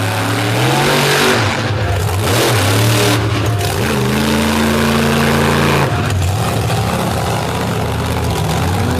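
A monster truck engine at an all-star kickoff show roars and revs loudly, its pitch climbing and falling through several throttle surges in a sustained, very close blast with no talk.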